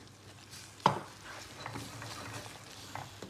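Choux dough for churros stirred in a pot after flour is added, with one sharp spoon knock against the pot followed by soft, steady scraping and stirring noise throughout.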